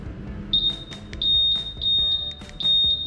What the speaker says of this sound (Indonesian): Nah ini alarmnya bunyi-bunyi